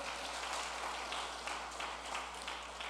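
A church congregation claps for the Lord in a dense, steady wash of applause, faint and somewhat distant, sustained through the short span with no voices on top.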